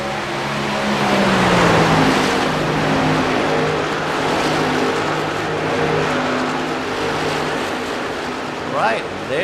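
Race cars run the final lap of a VSpeed Contender Series race, a loud, continuous engine roar swelling and fading as cars pass, with a brief higher whine near the end; an announcer talks over it.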